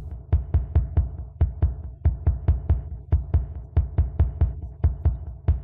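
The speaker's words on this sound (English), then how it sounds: "Now comes the heartbeat, which is this one." A heartbeat from the Sprunky Baby mod game thumps in a steady, regular rhythm of paired low beats, loud and close, repeating over and over with no voices.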